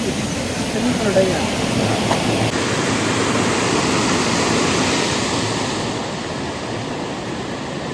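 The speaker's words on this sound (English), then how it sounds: "It's like a mini waterfall, guys. So much speed of water is there." A fast-flowing mini waterfall at Nehru Zoological Park in Hyderabad gives a dense, constant roar of rushing water, loud and near, steady across the whole stretch with a slight shift in tone partway through.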